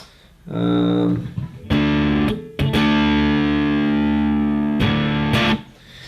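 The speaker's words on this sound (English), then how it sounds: "You just get that really nice kind of meaty rhythm guitar sound" Heavily distorted electric guitar chords through a modded Big Muff fuzz pedal ring out loud and thick, with short gaps between sustained, buzzing strums.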